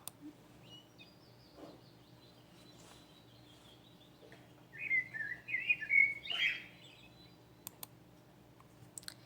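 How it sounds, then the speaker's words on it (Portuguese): A small bird gives a short burst of high chirps and trills in quiet surroundings, preceded by faint clicks and sparse, distant tweets. "É um som de um passarinho, isso mesmo."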